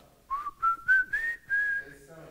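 A woman whistles a slow, clear melody from an old Mexican film, rising in short phrases and then holding a long sustained note, close and alone, with faint crackly background.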